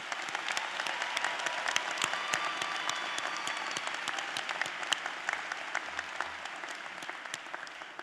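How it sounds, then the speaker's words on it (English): Audience applause for graduates at a commencement ceremony, a broad sustained ovation of many hands clapping with sharp individual claps standing out, steady and even across the whole stretch, heard from a moderate distance. "Let's give our graduates a warm round of applause."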